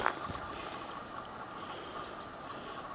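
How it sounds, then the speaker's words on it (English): Birds chirp in a forest by a creek, a few short high calls scattered over steady insect-like hiss and faint background ambience. "Here's some birds."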